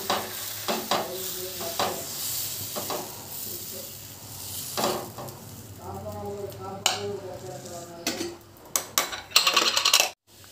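Sweet dosa batter of wheat flour, jaggery and cardamom powder hisses steadily on a hot oiled pan, with scrapes and clinks of utensils that sharpen toward the end, while a voice talks at intervals.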